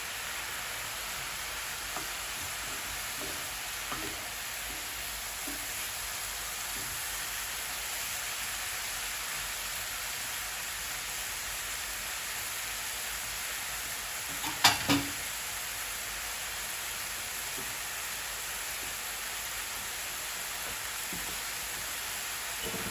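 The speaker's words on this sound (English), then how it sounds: "And now the spring onions go in." Spring onions sizzle in butter in a pan alongside aubergine and eggs, a steady, gentle frying hiss throughout with one brief clatter near the middle.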